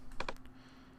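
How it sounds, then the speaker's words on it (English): A quick burst of typing on a computer keyboard while a birth date is entered into a receptionist panel form: two or three close, crisp key clicks in the first half second, then quiet. "we enter their birth date either by the calendar or by typing it in"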